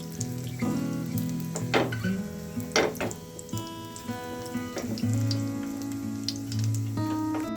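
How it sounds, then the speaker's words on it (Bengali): A cauliflower snack fries in a small pan, a soft, steady sizzle with light crackles and a few brief clinks of utensils against the pan, under gentle background music. "দুটো একসাথে ভাজতে চেয়েছিলাম, কিন্তু আমার প্যানটা ছোট, তাই দুটো একসাথে হবে না"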